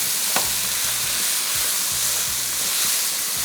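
Qeema (minced meat) with onions fries in a pan with a constant, dense sizzle and hiss, close and steady throughout, with faint stirring scrapes and no voices.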